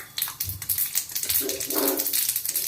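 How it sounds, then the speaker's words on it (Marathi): Mustard seeds crackle and pop in hot oil in a kadhai (wok), giving a dense run of sharp, close crackles with no voices. "त्यात मोहरी घालते. मोहरी तडतडली"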